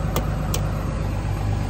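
A truck engine idles steadily on a cold morning, a low continuous rumble close by, with two brief clicks near the start.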